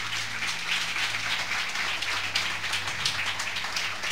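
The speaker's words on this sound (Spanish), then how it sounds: "Denle un aplauso a Jesús." A church congregation applauds together as a steady, dense wash of clapping. It sounds moderately loud and continues evenly throughout with no voices on top.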